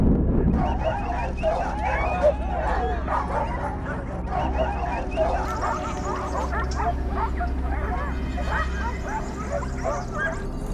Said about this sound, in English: Their relentless barking echoes through the forest